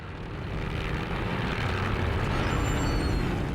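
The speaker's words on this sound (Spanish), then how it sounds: "Los aviones vuelan bajo sobre el campo, observando el progreso de la batalla." Low-flying First World War aircraft over a battlefield in 1918, a steady droning engine roar that holds loud and even throughout, with no voices.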